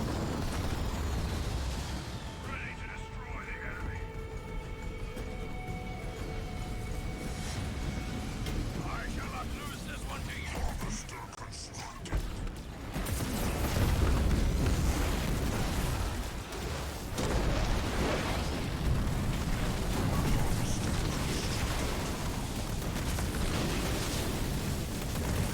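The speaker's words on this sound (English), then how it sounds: "More vulture missiles coming down on the Wraiths now as those vulture numbers start increasing" Vulture missile strikes pounding Wraith tanks in Halo Wars 2, heard as dense rumbling explosions and booming impacts mixed with game effects, with a voice talking over much of it.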